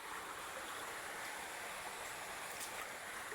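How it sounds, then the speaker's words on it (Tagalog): A river stream on a farm flows steadily, an even rushing wash of water with no breaks, quiet and continuous. "Ang ganda ng ilog mga idol"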